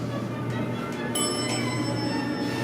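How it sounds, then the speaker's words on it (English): An old elevator's chime in a Brea Mall lift rings once, a clear bright bell tone that lingers over a steady mechanical hum. "The chime just totally sounds so ancient."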